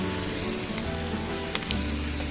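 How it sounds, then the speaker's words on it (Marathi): Ghol wild greens (purslane) are stirred with salt in a hot pan, giving a loud, continuous close sizzle with a couple of sharp scraping clicks near the end and no talk. "आता हे चवीनुसार मीठ टाकून व्यवस्थित परतवून घ्यायचं आहे"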